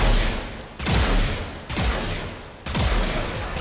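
The Tenet Arcoplasma weapon fires in the Warframe video game as four loud, evenly spaced blasts, each with a sharp attack and a short fading roar, and no voices.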